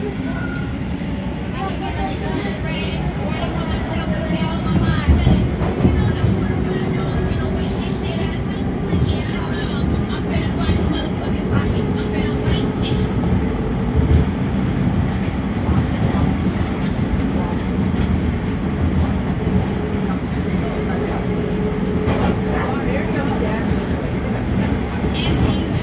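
A Toronto TTC subway train rides along Line 2 between Dufferin and Bathurst stations, a constant loud rumble and rattle of the car running on the rails from start to finish, with speech heard over it.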